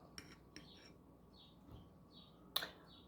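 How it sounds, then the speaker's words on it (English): Faint bird chirps through an open window repeat a few times in a quiet indoor room, with a small clink of dishes near the end. "tiny bit loud with bird chirping"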